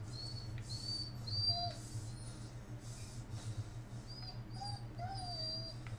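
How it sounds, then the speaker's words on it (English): Dogs whimper and give thin, wavering high cries over a low droning rumble in the horror video game Blair Witch, the whines recurring at intervals and sounding somewhat distant. "Dogs."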